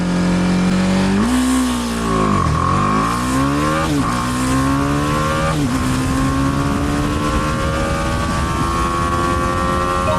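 A BMW motorcycle accelerates hard from standstill to 100 km/h, its engine rising in pitch through several quick gear changes, each shift marked by a brief dip before climbing again, loud and close throughout.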